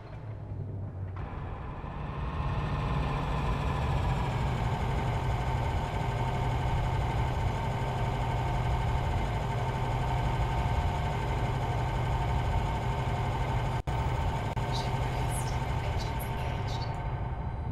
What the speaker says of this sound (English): It was beginning to sound like a diesel engine.